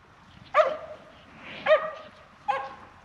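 A working dog gathering cattle gives three sharp barks, spaced about a second apart, at moderate distance in open air with no talking.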